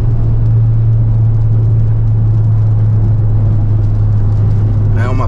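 Loud, steady engine drone from a VW Jetta TSI fitted with a Biagio 300 turbo and remap, cruising at high speed with constant rumble and road noise throughout, a brief whine rising near the end.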